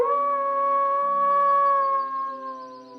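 A dog howls in one long, steady, wavering tone that trails off at the end, loud and close with nothing else heard.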